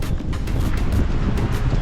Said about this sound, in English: It's so windy guys, I don't know if you can hear me.